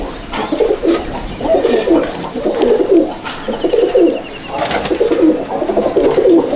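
Pigeons in a loft at Icchapur, North 24 Parganas, coo loudly and close in overlapping, throaty rolling phrases that repeat every second or so without pause.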